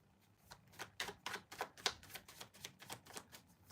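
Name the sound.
shuffling tarot cards to draw a clarifier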